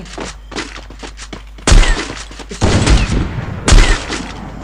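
Sniper rifle shots ring out in a video game, a few loud booming blasts with echoing tails after a stretch of quieter clicking and mechanical noises.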